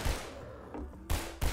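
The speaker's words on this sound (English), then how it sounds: "you can hear the gunfire outside" Distant gunfire outside in a Half-Life 2 level, in bursts: a cluster of muffled shots at the start, then two sharper reports near the end, with a low rumble between.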